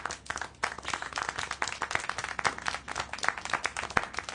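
A crowd of many hands claps in a dense, lively burst of applause in the game Syberia: The World Before, continuing steadily, moderately loud, with no voices.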